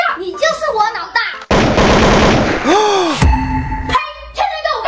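Rapid bursts of gunfire from a video game ring out loud and close, with a sustained automatic volley and a whooshing effect, between excited voices of a father and son talking.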